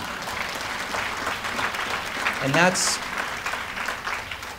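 A conference audience applauds after a speech on federal funding at a drug court professionals' gathering, moderate clapping mixed with a speaking voice and a brief sharp noise midway.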